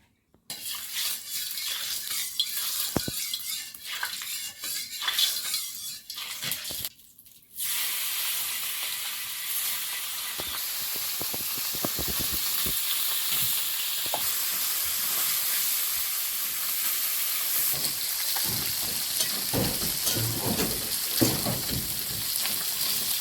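Fish pieces fry in oil in a kadai with turmeric and salt. Light clatter of utensils and a short pause give way to a steady, loud sizzle that carries on with occasional crackles.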